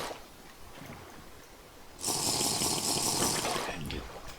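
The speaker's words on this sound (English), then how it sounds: "get ourselves a drink of water" Drinking water from a river in Minecraft with the Terrafirmacraft mod: a steady sloshing, gulping water sound runs for about two seconds in the middle, loud and close against quiet game ambience.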